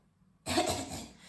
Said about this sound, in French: une toux chronique, où tous les jours vous allez l'entendre faire